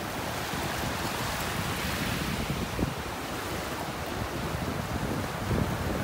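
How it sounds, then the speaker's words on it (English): Ocean surf rolls onto a beach in North Naples, Florida, a continuous broadband wash of waves with wind buffeting the microphone, steady and fairly loud, with no voices. "listening to the waves"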